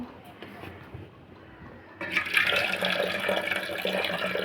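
Water poured off cooked rice in a home kitchen, a steady rushing splash into a sink that swells loudly about halfway through and keeps running to the end, with a quieter trickle before it.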